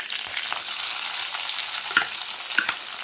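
Onions and curry leaves fry in hot oil for a pepper prawn gravy, making a close, continuous bright sizzle with a few soft stirring knocks.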